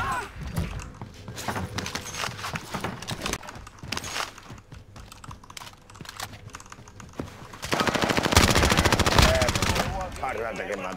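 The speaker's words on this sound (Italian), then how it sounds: "C'ho pure il cecchino che mi spara da su sopra" Rapid gunfire in a video game, with many sharp cracking shots in fast irregular bursts that grow louder toward the end, mixed with keyboard clatter.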